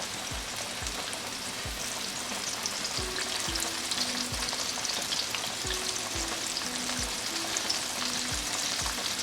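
Chicken pieces fry in oil over a medium flame, a steady close sizzle and crackle with faint periodic low thumps beneath, no talk.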